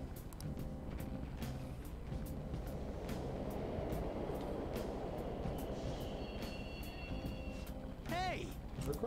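A subway train in the Persona 5 video game gives a steady low rumble that fills the whole stretch, with faint higher tones and a brief whine near the end.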